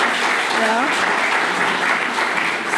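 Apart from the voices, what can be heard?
audience applauding at a tech conference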